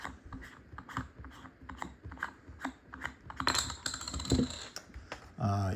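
An Apexel 20-60x telephoto lens is screwed onto a phone by hand, with a quick run of small clicking, ratcheting threads close up, followed by a brief louder rustle and thump near the end, without speech.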